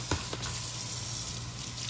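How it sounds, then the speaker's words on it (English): Running water over a sprouting jar lid at a sink, a steady, close hiss of flowing water with a low hum underneath and a couple of brief knocks near the start. "rinsing the lid"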